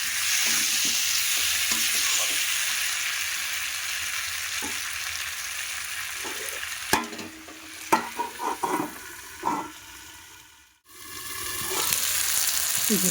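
Fish curry masala with tomato sautéing in a pan, a steady broadband sizzle with stirring scrapes and clinks, briefly cut off near the end before the frying hiss returns.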